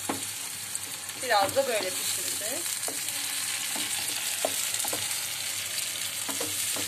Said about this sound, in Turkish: Şimdi domatesimizi, salçamızı, soğanları ilave ediyorum.